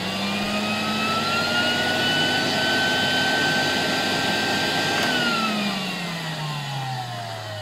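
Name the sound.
Alfa K2 vacuum cleaner with SK-5b motor running (1964)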